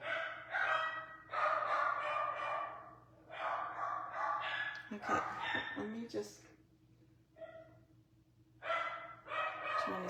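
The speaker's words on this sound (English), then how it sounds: "try to see if the dogs are going to stop barking" Several dogs bark in repeated bursts at home while a doorbell-prompted commotion goes on, the barks loud and close, overlapping with a person speaking between and over them.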